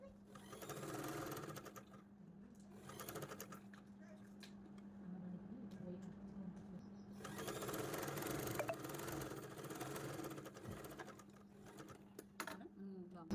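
A sewing machine runs in steady bursts while stitching invisible piping into a garment lining, its fast motor hum starting and stopping several times as a voice talks over it.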